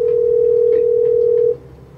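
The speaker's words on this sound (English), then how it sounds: "So we even tried calling her" A telephone dial tone plays during a call to someone who never answers: a loud, steady, unbroken tone that cuts off abruptly near the end, leaving quiet room noise.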